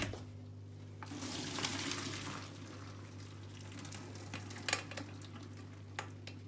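Boiled potatoes tipped into a colander, with water pouring and splashing steadily through it in a kitchen, rising briefly then settling to a softer trickle with a few small clatters; no one speaks.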